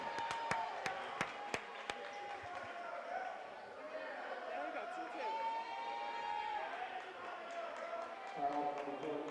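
A small crowd at a junior college men's basketball game in Mississippi stirs after a technical foul, with scattered cheers and chatter under a commentator's voice; sharp sneaker squeaks and a few bounces early on.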